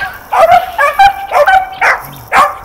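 Dogs bark and yip loudly at close range in a quick series of sharp, agitated bursts with brief whimpering between them.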